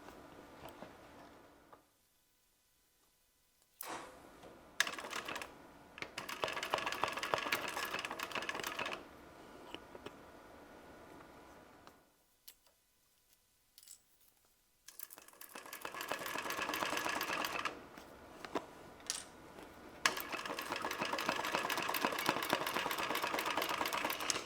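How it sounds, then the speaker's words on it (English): An industrial sewing machine stitches the side of a tote bag in several rapid running bursts separated by short pauses, a close, steady mechanical rattle with no talking. "I'm going to go ahead and stitch the other side exactly the same way."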